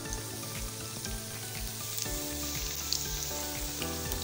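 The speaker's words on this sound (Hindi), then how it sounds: "पकौड़े हमारे माशाल्लाह से बहुत अच्छे फ्राई हो रहे हैं" Pakoras fry in oil with a steady, dense sizzle and crackle, close and even throughout, with no voices.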